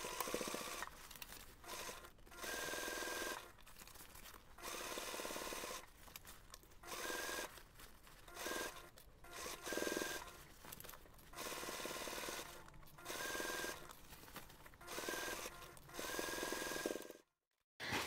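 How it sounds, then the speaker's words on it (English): A sewing machine stitches the seam around a fabric plant pot cover, running in repeated bursts of rapid mechanical whirring with brief pauses between, fairly steady and close with no speech. "we're going to take this to the machine and we're going to sew the seam all around using 1 centimeter seam allowance"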